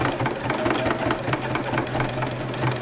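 A sewing machine runs steadily, stitching thread-painting outlines on fabric in a landscape piece, with a fast even mechanical pulse and soft rhythmic clicks close up, no talk.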